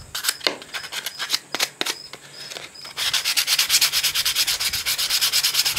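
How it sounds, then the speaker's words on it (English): Hand sanding of a forged spoon knife handle with 120 grit sandpaper, close rhythmic scratchy strokes that start sparse and uneven, then turn rapid and steady. "I'm just kind of taking some time here to sand the handle down"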